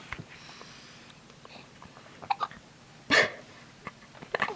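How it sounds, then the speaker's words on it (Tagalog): A sleeping child hiccups in several short, sharp bursts at uneven intervals, close to the microphone, with soft breathy sniffs between them in an otherwise quiet room. "Tulog habang sinisinok eh."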